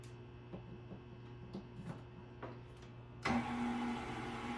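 A stand mixer switches on at slow speed with banana bread batter of brown sugar and bananas in the bowl, a steady low motor whir that starts partway through after faint ticking and hum.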